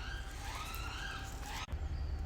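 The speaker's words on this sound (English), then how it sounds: "So that was just a siren, police siren." A London police siren wails in the distance behind steady traffic and outdoor background noise, its pitch rising and falling.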